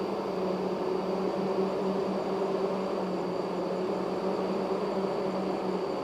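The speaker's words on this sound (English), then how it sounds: "That's the sound of a lot of hydraulic motors working in unison." Many hydraulic motors on SPMT transporters running together, a steady, dense mechanical drone with a constant hum and high whine, continuous and unchanging throughout with no voices.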